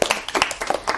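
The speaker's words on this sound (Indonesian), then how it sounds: "tepuk tangan dulu dong" Students in a high school setting clap their hands for a moment, a short burst of brisk, fairly close claps from a small group.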